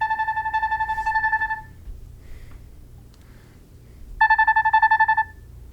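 Timer alarm on a Nothing Phone (2) chiming when it finishes, a rapid series of bright electronic beeps that sounds for over a second, goes quiet, then repeats in a second burst, close and clear.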